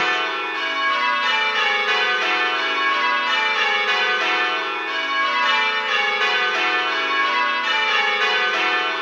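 Church bells rung in rounds by a band of ringers, a steady unbroken cascade of overlapping bell strikes descending through the set again and again, loud, resonant and close, with no voices.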